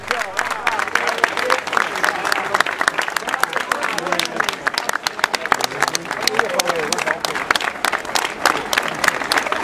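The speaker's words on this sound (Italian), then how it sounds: "i sostenitori di Amedeo Pumella applaudono il nuovo sindaco Giuseppe Catania" Supporters applaud a newly elected mayor at an outdoor celebration near an election committee office, with loud, sustained, crackling clapping and crowd murmur throughout, voices mixing in beneath the applause.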